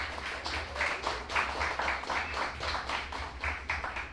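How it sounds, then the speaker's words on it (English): A modest audience claps after a tech talk on test pyramid strategy, fairly quiet and a little distant, with audible individual claps pulsing rhythmically over a low steady hum for about four seconds. "A round of applause"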